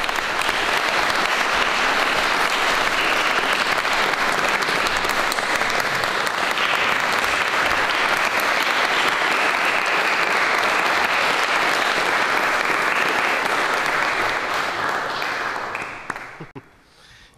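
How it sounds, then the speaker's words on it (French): An audience at an evening conference opening a small museum edition on Île-Dupas applauds warmly, steady full-room clapping that holds for about fifteen seconds before quickly tapering to silence. "j'aimerais qu'on les applaudisse chaleureusement pour leur contribution à l'histoire de l'île du Port"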